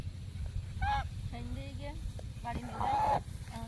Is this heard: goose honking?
yes